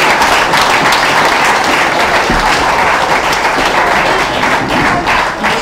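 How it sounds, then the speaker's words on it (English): Sustained audience applause fills the space at a national championship presentation for the NS14 sailing class, dense and steady throughout with no break. "round of applause"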